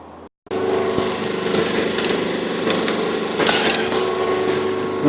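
A homemade injection moulding machine runs steadily at close range while shaping plastic spark plug caps, giving a continuous motor-like drone with clattering bursts, after a brief silent gap near the start.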